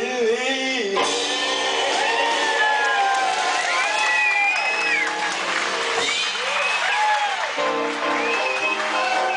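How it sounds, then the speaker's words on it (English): A club audience applauds and cheers at a New Year's cabaret show, with steady clapping, whoops and shouts filling the room throughout and a voice carrying over the crowd. "Keep that applause going."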